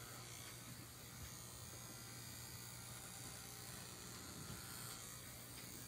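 An electric shaver running while shaving a head, a continuous close buzzing hum with faint rattling, no talking.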